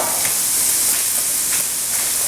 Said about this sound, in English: Let that simmer for a couple of minutes